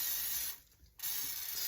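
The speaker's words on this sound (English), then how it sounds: "spraying this guy with some non-stick cooking spray" Non-stick cooking spray hisses out in two close, steady bursts, split by a short pause, while portioning sticky gyro meatballs.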